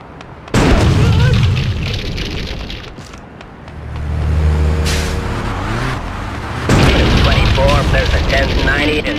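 Rocket launcher blasts in Grand Theft Auto II sound as loud booming explosions with crashing bursts, a rumbling lull between them, then another heavy roaring detonation filling the scene.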